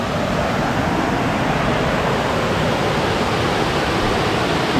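Aysgarth Falls in the North Yorkshire Dales, a waterfall roaring in a steady, dense rush of water that fills the whole clip with no voices.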